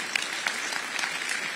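Audience applause at a live conversation event, a brief, even wash of clapping from a crowd throughout.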